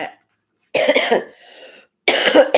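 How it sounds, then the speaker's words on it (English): Two short bursts of dry, harsh coughing separated by a brief pause and a soft breathy sound, close and clear with no talking. "now I have that dry cough"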